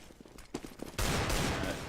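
Desert Eagle pistols fire in Counter-Strike during a pro match, a few sparse shots followed by a dense, loud burst of overlapping gunfire.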